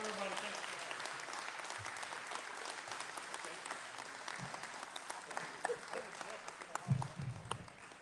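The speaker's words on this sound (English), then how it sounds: "Round of applause for everybody." A crowd at a tornado relief fundraiser applauds in a steady, fairly distant wash of clapping that holds throughout, with a few low thumps and faint voices mixed in.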